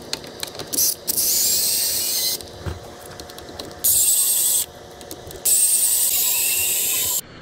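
Screws being backed out of an Axial SCX6 RC crawler's shock tower and chassis with a power driver, several bursts of steady high-pitched whirring separated by short pauses and small clicks, close up with no talking.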